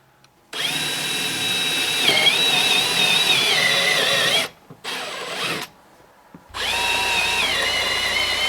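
A power drill bores a pilot hole for a door installation in a long, loud whining run with a slight pitch dip, a short burst, then another sustained run after a pause, close up with no talk.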